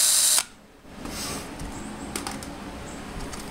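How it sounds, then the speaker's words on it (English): A drill spins a thread-tapping tool on a Sand Rat project, giving a short mechanical whir after a brief click, moderately loud and close, with no talk. "I just put it on the end of a drill."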